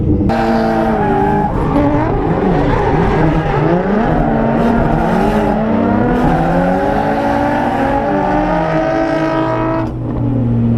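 Nissan S13 engine droning and revving hard while driving close behind another car, with tires squealing and skidding throughout, continuous and loud up close with shifting pitch from clutch kicks.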